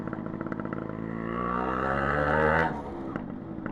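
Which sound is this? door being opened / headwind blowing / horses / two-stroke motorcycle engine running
two-stroke motorcycle engine running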